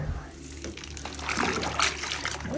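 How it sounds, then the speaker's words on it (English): Water splashing and running in a small bath as squishy toys are washed, bright sloshing and trickling up close with brief splashy bursts. "if you play with your squidgies, they need a squidgy bath"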